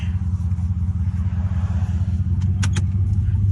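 A rebuilt Dodge Charger R/T fitted with a Hotlicks flame kit idles with a deep, throbbing exhaust rumble, then lets out two sharp, quick exhaust pops close by, no voices.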